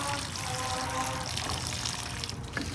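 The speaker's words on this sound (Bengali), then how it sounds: "এই যে এটাতে একটু জল দিতে হবে" Water poured from a container onto a newly planted vegetable plant in a home garden, a steady close trickle and splash that runs continuously throughout, with faint background noise.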